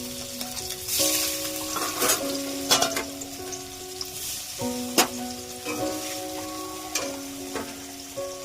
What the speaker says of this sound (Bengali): তেলটা গরম হয়ে গেছে, আমি এবার একে একে মাছগুলো ছেড়ে দিলাম।